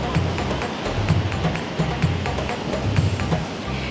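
Mediterranean sea waves wash onto a beach in Tel Aviv as a continuous, fairly close rush of surf, with a soft rhythmic music bed running underneath.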